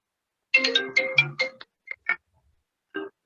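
A short electronic ringtone melody plays a quick run of bright notes, then a few sparser beeps after brief pauses.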